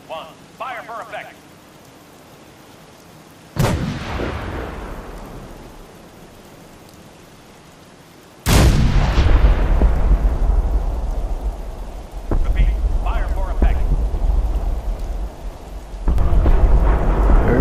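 Artillery batteries fire a barrage in the video game Fallout 4, with heavy booming blasts that roll out into long rumbling tails and stack up into a loud, continuous roar toward the end.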